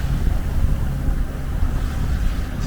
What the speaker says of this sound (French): Bon là maintenant on est au moteur parce qu'il n'y a plus du tout de vent